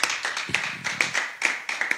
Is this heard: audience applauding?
yes